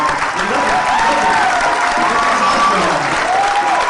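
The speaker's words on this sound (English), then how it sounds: "let's give another round of applause for the most powerful, beautiful, strong award ceremony" Applause from an audience at an award ceremony held at Royal Court during KuumbaFest fills the space, dense and steady throughout, with a whistle-like tone rising over the clapping.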